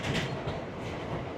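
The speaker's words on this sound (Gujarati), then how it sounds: "ફાઇનલી એ ટ્રેનમાં બેસી ગયા" Interior of a passenger train while riding, with a steady broadband rumbling roar and faint rhythmic rattling throughout. No voices are heard.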